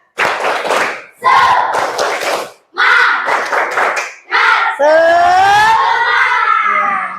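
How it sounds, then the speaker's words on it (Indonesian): A school class performs the 'tepuk semangat' clapping chant: loud bursts of rhythmic clapping mixed with children's chanting voices come in four separate rounds, then end with a long drawn-out shout. "Tepuk semangat."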